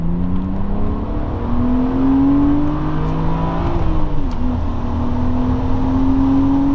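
A 6-speed BMW hatchback rolls on in second gear from 3,000 RPM toward a 7,000 RPM redline, its engine note rising steadily, dipping briefly near the middle, then climbing again, loud and close from inside the car without any talk.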